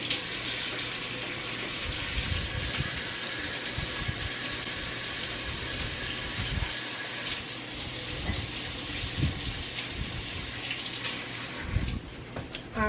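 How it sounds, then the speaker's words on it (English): Tap water runs steadily into a sink as hands are washed in a home kitchen during shrimp and broccoli alfredo prep, a continuous broadband rush with splashing variations and a brief change near the end as the flow is disturbed. "we're just going to go ahead and wash our hands"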